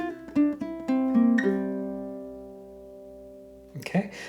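Ukulele etude phrase picked note by note with hammer-ons and pull-offs, a quick run of plucked tones ringing into a long sustained note that fades, played alone up close.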